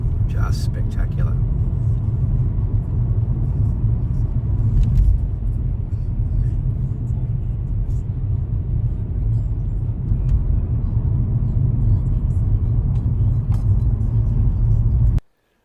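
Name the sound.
car driving on icy mountain road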